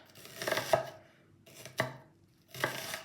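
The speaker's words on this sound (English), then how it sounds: "run your knife through the onion as it is, halved, so you get these thin moon slices" A chef's knife slices through a halved onion on a cutting board, giving three sharp, close chopping strokes with a short pause between each, and no other sound.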